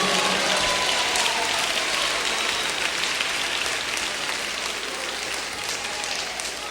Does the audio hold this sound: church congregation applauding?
yes